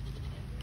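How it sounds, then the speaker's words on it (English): A goat lets out a short, close bleat, a single brief low vocal burst with nothing else around it. "The goat's talking."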